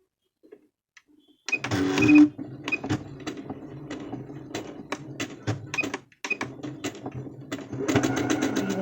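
Domestic sewing machine stitching folded fabric at home, with bursts of fast mechanical whirring and clicking separated by short pauses, close and moderately loud, ending in a longer continuous run.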